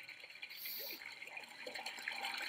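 A toilet-style water flush in the puzzle game Riddle Transfer, a steady rushing, gurgling wash of water lasting a couple of seconds, moderately loud and close, with no talk over it.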